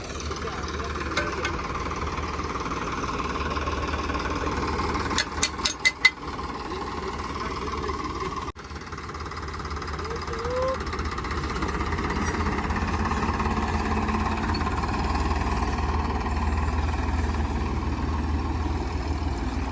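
A tractor engine drones throughout at a constant pitch while sowing wheat in a field, with a brief burst of sharp clicks partway through; no voices.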